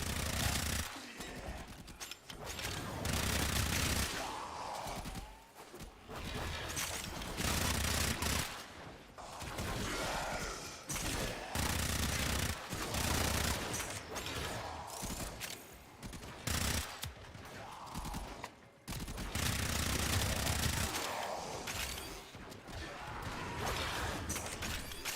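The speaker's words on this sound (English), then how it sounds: "And these guns I have set up for rate of fire." Guns tuned for high rate of fire in the video game Warframe, blasting in loud, sustained rapid bursts with short pauses between volleys, dense and close throughout, with no talk.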